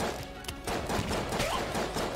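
Rapid gunfire with bouncing shots in the video game Exit the Gungeon, a dense continuous volley of sharp bursts and impacts at steady loudness throughout.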